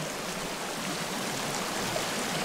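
A steady broadband rush of a flowing river in Sons of the Forest, with constant, even water noise and no talking.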